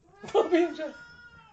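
A cat lets out a loud, drawn-out meow close by, a single rising and falling call with a slight whine.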